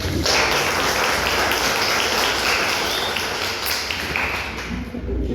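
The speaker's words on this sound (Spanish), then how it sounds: "Un fuerte aplauso" A dense, continuous wash of audience applause greets a professor arriving as a guest on an interview program, loud and steady with no talk over it.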